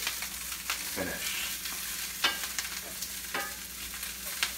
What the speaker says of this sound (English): So as I'm sauteing this stuff up